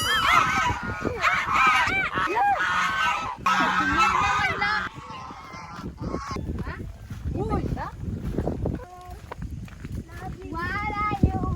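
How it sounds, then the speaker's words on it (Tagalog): Geese honk repeatedly at a rural family home in Cavinti, Laguna, their calls loud and close, overlapping with ongoing conversation and a few other animal sounds in the background. "Gansa."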